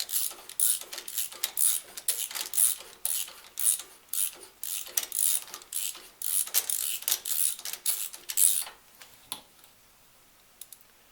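A 5/8 spark plug wrench ratchets in a series of close, crisp clicking bursts while loosening the spark plug on a Kohler Courage engine, then trails off into quiet.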